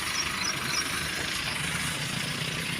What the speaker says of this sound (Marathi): शेतातनं ट्रॅक्टर कसा चालतोय बघा